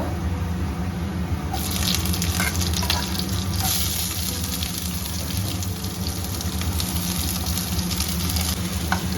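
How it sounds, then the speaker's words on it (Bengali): Garlic and onion frying in oil with whole spices such as cinnamon, cumin seeds and bay leaf, a dense continuous sizzle close up, brightening after the first second and holding steady, no voices. "একটু লাল লাল করে ভেজে নেবো পেঁয়াজটা"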